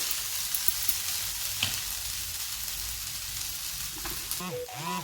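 Potatoes for batatyacha kharda sauté in a hot pan, a loud, close, continuous sizzle with small stirring clatters and a brief warbling tone near the end.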